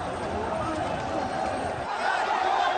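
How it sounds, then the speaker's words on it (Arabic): Protesters crowd a security barrier in Khallani Square, held back by security forces, chanting slogans in a dense, steady roar of many voices that swells slightly toward the end. "وهم يرددون هتافات تدعم زملائهم المحتجين الذين عبروا هذا الجدار"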